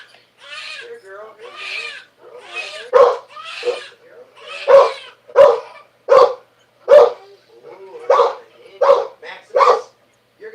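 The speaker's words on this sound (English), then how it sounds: "You don't need to bark." A dog barks repeatedly indoors, a string of loud, close barks and yips coming in quick bursts, with a person's voice heard faintly at the start.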